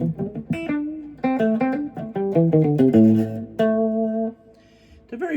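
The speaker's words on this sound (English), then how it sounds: "This is going through my Vox MV50 clean with only a reverb, little reverb pedal attached to it." Clean electric guitar notes and chords from a Leo Jaymz TL-style guitar with a USA flag design, played through a Vox MV50 amp with a small reverb pedal; a run of plucked melodic phrases, sustained final chord ringing out, close and clear.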